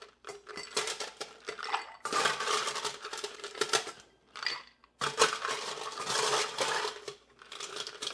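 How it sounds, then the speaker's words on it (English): Ice cubes are dropped into a glass while a lager shandy is made, giving repeated clinks and rattles in bursts with short pauses between scoops, fairly close and clear. "next we're gonna fill our glass with ice"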